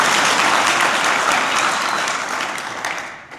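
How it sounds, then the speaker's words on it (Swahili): A crowd at a Yanga club meeting with fans in Malawi bursts into loud, dense applause that holds steady, then tapers and fades out toward the end. "Tujipigie makofi wote kwa pamoja"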